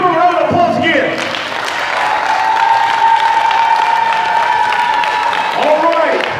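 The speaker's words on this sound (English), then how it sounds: "Give them a round of applause again." A crowd at an independent wrestling show in Logansport, Indiana claps and cheers in a sustained burst, while a ring announcer keeps talking over it.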